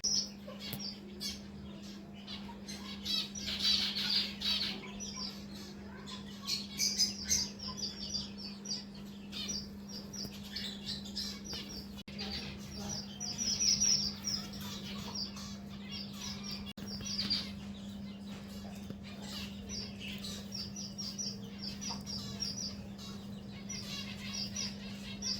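Birds and pigeons in an aviary, scattered chirps and calls coming and going over a constant low hum, with no talking.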